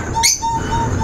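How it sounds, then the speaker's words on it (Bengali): A pair of pet cockatiels gives one short, sharp call up close, followed by quieter chirps against a soft indoor background. "এই যে আমার একজোড়া ককাটেল পাখি আছে"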